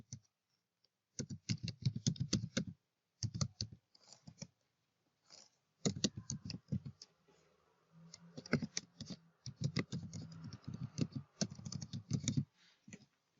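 Fast keystrokes clatter on a computer keyboard while an email address is entered, coming in close, crisp bursts separated by short pauses.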